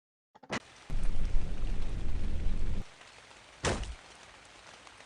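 A rain sound effect from an animated Melon Playground meme: a dense hiss of falling rain lasts about two seconds, with sharp noise bursts before and after it and no voices.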